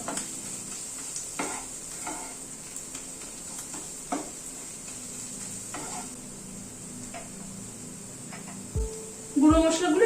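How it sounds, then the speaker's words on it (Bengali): Ground spices being stirred into onion, ginger and garlic in a frying pan for a rohu fish curry, with a steady sizzle and scattered scraping stirs, a few louder clatters near the end. "সব গুঁড়ো মশলাগুলো দিয়ে পেঁয়াজ আদা রসুনের সাথে আবার একটুখানি নাড়াচাড়া করে নেব।"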